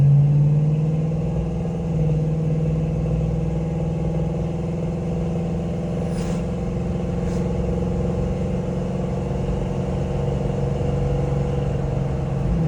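A 1970 Dodge Challenger R/T convertible cruising at normal speed, its engine giving a steady low rumble with continuous road and wind noise and no major revving.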